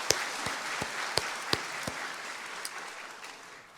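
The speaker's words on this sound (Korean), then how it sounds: "감사의 박수합니다." A church congregation at a Sunday evening revival service claps in thanks, a steady rustle of many hands with several sharp, distinct claps standing out early on, fading gradually toward the end.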